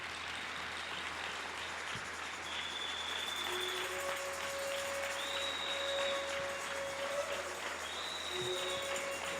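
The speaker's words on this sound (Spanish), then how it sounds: "Dale una ofrenda de palmas a tu rey." Church congregation applauding during a sermon, a steady, continuous patter of many hands at moderate level, with sustained tones from keyboard or music running beneath it.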